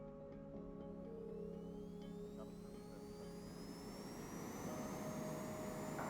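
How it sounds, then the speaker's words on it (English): A jet airliner takes off in the airport simulation game Airport Control 27 at KJFK. A steady, distant engine roar holds throughout, with a thin rising whine climbing in pitch as the aircraft speeds up. "Runway 4 right. Cleared for takeoff. Runway 4 right. Taking off."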